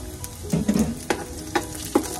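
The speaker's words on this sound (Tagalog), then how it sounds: "Antayin na natin mag-brown na ating bawang." Garlic frying in cooking oil for chicken tinola, a steady close sizzle with several soft stirring knocks from a utensil.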